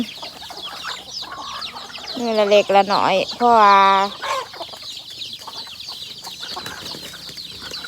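Farmyard chickens cluck repeatedly while being fed, close and fairly loud, with a rooster-like call rising in the middle and a person speaking over the birds.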